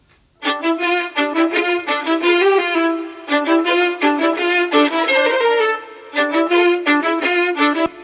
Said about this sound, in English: the second one is a really long lexicon reverb